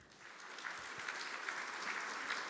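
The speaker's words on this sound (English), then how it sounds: "So a big round of applause for the team Determinant from ETH Zurich" Audience applause at a programming contest closing ceremony as a team from ETH Zurich is honoured, a dense continuous patter of many hands clapping that builds slightly and carries on steadily at moderate distance, without talking.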